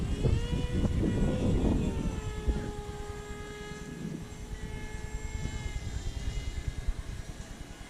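A Durafly EFX Racer RC plane flies in a Lobster Combat event, its buzzing motor whine rising and falling in pitch as it passes, loudest early on and then fainter and farther off.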